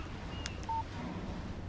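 A phone in the Alan Wake video game gives a short electronic text message notification: a couple of brief clear beeps over a steady low background hum.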